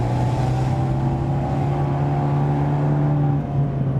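Steady, droning engine note from a 2016–2017 Abarth 124 Spider with a 170 hp engine and sport exhaust, heard from inside while cruising, a continuous low hum with a faint dip near the end and no talk.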